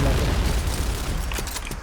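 A grenade detonating in an online shooter on the Sandstorm map, a loud, close, rumbling boom that decays over roughly two seconds.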